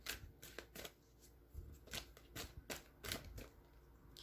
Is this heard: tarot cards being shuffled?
yes